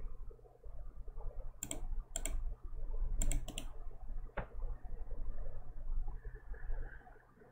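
Keys on a computer keyboard click in a few short bursts, some single taps and some quick pairs, over a low, faint room hum with no speech.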